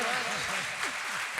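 An audience at a religious discourse claps in a brief burst of applause, heard faintly under a man's speech.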